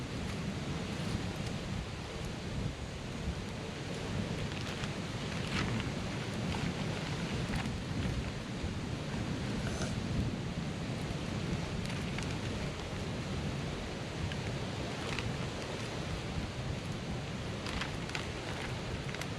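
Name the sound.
strong wind blowing outdoors at basecamp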